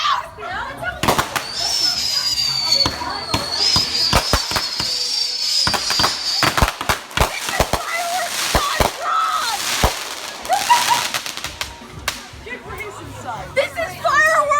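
Fireworks going off dangerously close, with many sharp, loud bangs and cracks in rapid irregular bursts, some clustered, mixed with a shrill whistle and excited voices shouting nearby.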